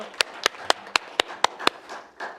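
Seven crisp claps in a steady rhythm ring out at a policy debate forum on AI digital textbooks, close and distinct, followed by a faint scatter of softer sound.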